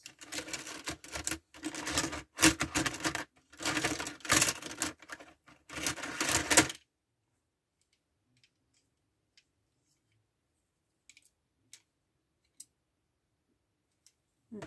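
Pinking scissors cut through card in a quick run of crisp, closely spaced snips for several seconds, then near silence with a few faint, isolated clicks.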